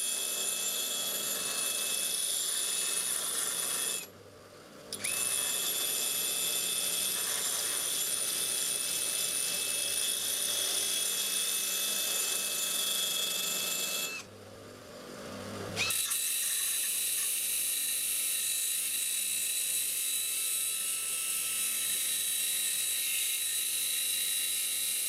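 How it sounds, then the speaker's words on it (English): A steady high-pitched grinding whine with metallic scraping as steel bolts spun in a drill are pressed against a grinding wheel, broken by two brief pauses where the tool spins down and starts again; no talking. "when I have the bolts in the drill I have it rotating in an upwards direction to meet the grinding wheel"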